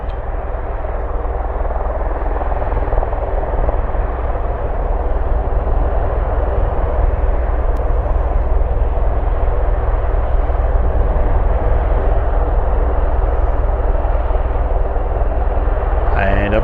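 Large aircraft circling in the landing circuit at Mildenhall after a long transatlantic flight give a loud, continuous engine roar that holds steady throughout.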